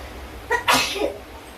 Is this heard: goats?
no